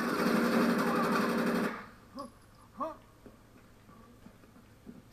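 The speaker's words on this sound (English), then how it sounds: "Let's go with this machine gun." A rapid burst of machine gun fire in Rainbow Six Vegas rattles loud and close for under two seconds, then stops. A few short voiced sounds follow over quiet background.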